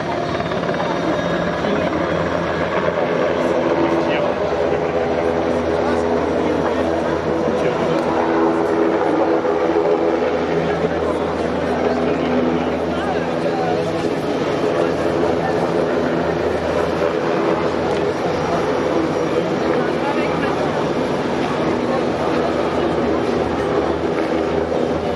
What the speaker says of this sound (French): Le Cayman est un hélicoptère de combat aéromaritime de nouvelle génération.